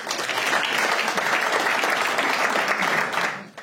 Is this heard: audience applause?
yes